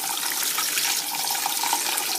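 Cool tap water runs steadily into the cavity of a raw turkey as it is rinsed in a kitchen sink. The close, even splashing hiss holds throughout with no talking.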